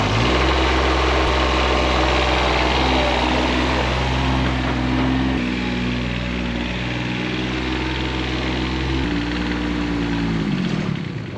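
An old lawn mower tractor engine runs loudly and steadily throughout, with a low droning rumble that shifts pitch a couple of times as it is revved and settles again. No one speaks.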